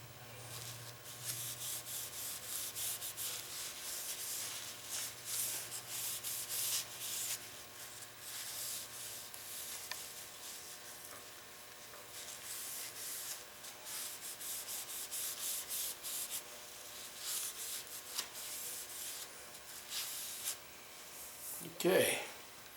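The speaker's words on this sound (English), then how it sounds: "This is a sanding sealant." Paper towel rubbing sanding sealant onto a turned pen on a lathe, a steady soft scrubbing hiss running throughout, close and fairly quiet, ending in a brief louder scrape.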